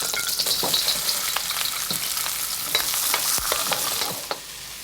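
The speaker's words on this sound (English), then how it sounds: "we fry, we stir fry." Mushroom stir-frying in a pan, a steady loud sizzle with repeated scraping stirs across the whole stretch, tapering slightly at the end; no one talks.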